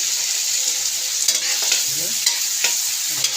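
Rice is stirred in a hot pan over a bright, continuous close sizzle, with a few scraping strokes and light utensil taps.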